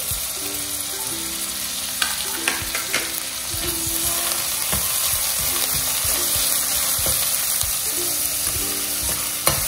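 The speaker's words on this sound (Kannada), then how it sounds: "ಫ್ರೈ ಮಾಡಿದ ರೀತಿಯಲ್ಲಿ ಚೆನ್ನಾಗಿ ಫ್ರೈ ಮಾಡಬೇಕು." Ginger and garlic frying in a pan for mutton momos give a loud, continuous close sizzle, with spatula scrapes and clicks against the pan throughout and no voice.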